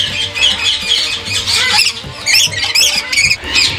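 Ringneck parrot chicks in a cage give loud, close, raspy squawks in rapid overlapping bursts, with soft rustling between calls.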